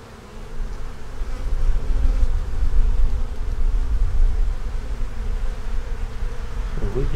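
Honeybees swarm over a hive frame with a queen cell, making a dense, continuous low buzz that stays steady and fairly loud throughout, with no talking.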